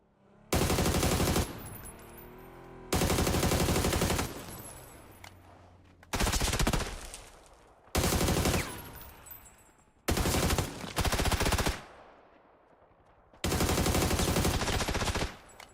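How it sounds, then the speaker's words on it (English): An SMG in the video game PUBG fires six loud, sustained bursts of rapid automatic gunfire, each lasting one to two seconds and separated by short quiet gaps, heard alone with no talk. "He's got an SMG."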